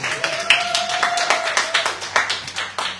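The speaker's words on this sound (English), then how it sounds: "Give her a round of applause for that." Audience clapping for a gold medalist high jumper, a modest burst of scattered, uneven hand claps close by, with a brief voice tone running under the first half.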